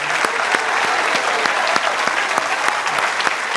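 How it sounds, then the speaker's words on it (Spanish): A church congregation claps during a worship service, a thick wash of applause with a few sharper individual claps standing out, sustained and loud from start to finish. "Damos este aplauso al Rey de Gloria."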